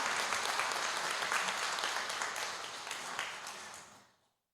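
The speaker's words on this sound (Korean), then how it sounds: "박수 한번 보내드리겠습니다" Congregation applauding their pastor during a lay Sunday church service, steady dense clapping from a large crowd that holds for several seconds, then tapers off and stops.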